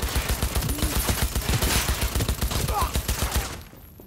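Rapid automatic gunfire in Cyberpunk 2077, a dense run of close, loud shots with game music and effects underneath, cutting off abruptly near the end.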